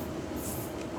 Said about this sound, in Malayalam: ട്രെയിനിൻ്റെ സൗണ്ട് കേൾക്കുന്നു